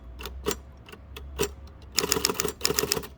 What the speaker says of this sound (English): The sound of the mechanism, the escapement, actuating.